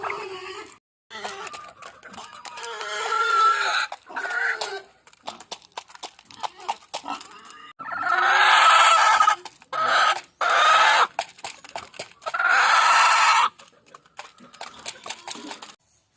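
Backyard hens cluck and chatter in bursts while waiting to be fed, several birds close by with loud stretches of overlapping calls and quieter gaps between.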